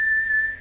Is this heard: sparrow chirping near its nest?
no